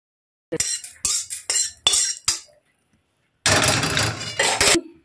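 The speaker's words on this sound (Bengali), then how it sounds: "এখন এটা আমি একটা থালায় ঢেলে রেখে দেব" Lightly fried spices are tipped onto a plate, a run of sharp clinks and scrapes followed after a pause by a longer gritty pour with a final clatter.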